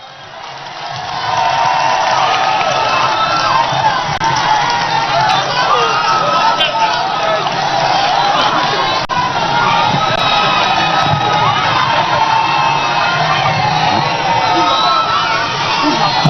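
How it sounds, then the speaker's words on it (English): A large crowd at a national prayer and thanksgiving service cheers and shouts loudly and continuously to welcome the National Chairman, General Asiedu Nketia. The roar swells within the first second and then holds at full volume. "with a round of applause, help me welcome the National Chairman General Asiedu"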